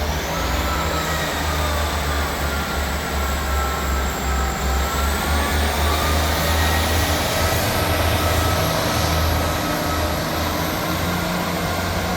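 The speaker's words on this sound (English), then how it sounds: "Departing out now is the 12:59 Scotrail service from Dundee to Edinburgh Waverley" A ScotRail Class 158 diesel unit on a Dundee to Edinburgh Waverley service pulls out of Edinburgh Gateway, with a loud, sustained engine roar and low rumble, a rising whine above it and no talking.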